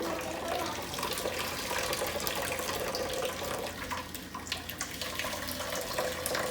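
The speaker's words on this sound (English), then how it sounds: "there's the milk coming out" Almond milk streams and trickles steadily from a straining bag into a container, a continuous close pouring sound with no voices.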